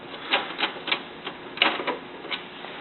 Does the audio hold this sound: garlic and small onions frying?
no